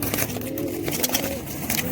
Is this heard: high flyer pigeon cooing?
yes